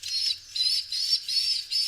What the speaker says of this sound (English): like a high-pitched whistle